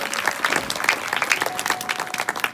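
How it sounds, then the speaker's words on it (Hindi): An audience applauds at a stage performance of a comedy Ramayan, a dense, steady burst of clapping from many hands, fairly close, with no talk over it. "एक बार जोरदार ताली हो जाए बहनों।"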